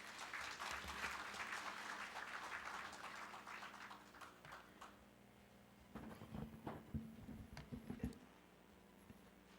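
Audience applause welcoming a guest at the founding general assembly of a provincial residents' council, broad clapping for about six seconds that thins out, followed by scattered quieter claps and shuffling.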